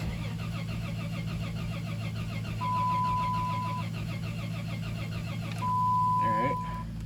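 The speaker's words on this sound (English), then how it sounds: "Roll it over real good. I'll let the starter cool down for a second." A 5.3L V8 cranking on its starter with the gas pedal held down, a steady near whirring churn that carries on without catching, with someone talking over it.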